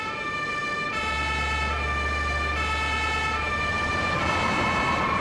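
A fire engine siren wails steadily and loudly over a constant low engine rumble, its tone holding throughout as the truck arrives.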